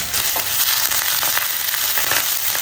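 Chopped onion, green chilies, curry leaves and a ground paste fry in a pan for a Kerala-style home lunch, giving a loud, steady sizzle with faint scrapes and no talking.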